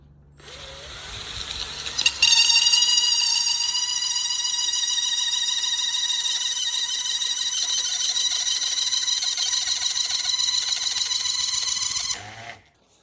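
A high-pitched, steady squeal with strong harmonics from a wooden dowel forced into a tight hole rings out for about ten seconds after a brief knock, then stops abruptly; no talking.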